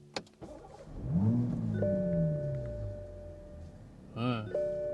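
A 2026 Toyota GR Supra MkV Final Edition fires up: the engine cranks, flares in one quick rising rev, then settles to a steady idle, accompanied by electronic dashboard chimes, heard close from inside the car.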